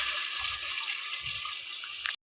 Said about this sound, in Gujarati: તો હવે આપણે એમાં નાખી દઈશું પાણી।